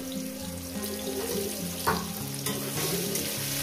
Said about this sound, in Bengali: মূলোটাকে দিয়ে, যেটা আমি এখানে আলু দিয়েছি, মূলোটাকে দিয়ে আমি 5 মিনিট ভেজে নেব।